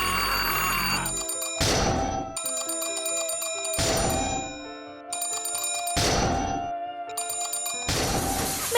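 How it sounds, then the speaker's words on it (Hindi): A cartoon alarm clock rings in repeated loud bursts, bright clanging bell trills alternating with short gaps in a regular on-off rhythm. "Bye bye alarm clock."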